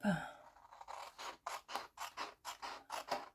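Scissors cutting a strip of paper for a paper rosette: a quiet, close series of about ten crisp snips in a steady rhythm.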